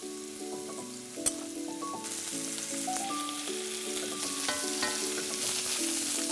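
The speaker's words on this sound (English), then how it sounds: "I have my beef on a really high heat because I really want that caramelization." Beef browning over high heat in a pan for Hungarian goulash, a steady close sizzle and fry running throughout under soft background music, with one sharp clink early on.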